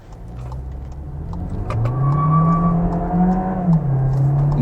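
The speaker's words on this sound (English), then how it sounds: "you do get a little bit of wheel spin" A 2023 VW Jetta SEL pulls away hard, its engine note climbing steadily in pitch and loudness with a faint tire chirp from wheel spin, recorded from inside the car with no talk.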